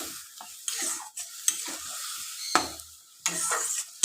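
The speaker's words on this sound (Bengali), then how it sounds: "ভালো করে কষাচ্ছি" Prawns and yam cooking in a pan into a curry, with bursts of sizzling and scraping as a spatula stirs and turns them, separated by short quieter gaps, loud and close.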